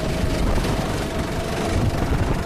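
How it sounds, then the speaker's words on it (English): An F1 car engine in a racing video game produces a dense, continuous, rough roar with a thin whining tone running through it, loud and steady throughout with no speech. "Listen to this engine note."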